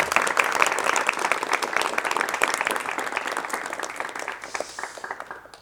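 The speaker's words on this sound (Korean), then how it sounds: "여러분 열띤 박수로 맞이해 주시면 대단히 고맙겠습니다" A studio audience on a 1986 Korean television talk show gives enthusiastic applause to welcome an elderly medical doctor, dense clapping that slowly tapers off.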